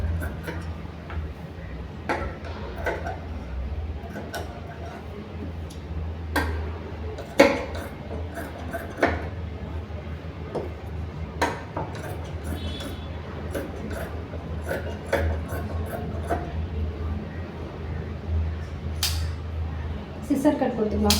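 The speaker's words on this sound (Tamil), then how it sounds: "ஸோ நம்ம வந்து ஸ்லீவை கட் பண்ணிக்கலாம்." Scissors snip through blouse sleeve fabric in short, irregular clicks and crisp cuts that repeat over time. A low background hum sits underneath, and a person speaks at moments.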